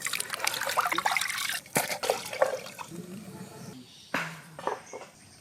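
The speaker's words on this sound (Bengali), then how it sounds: "মাংসটাকে ভালো করে ধুয়ে নেব।" Running water splashing and trickling as meat is washed in a Bengali village kitchen, close and uneven, with a voice talking underneath.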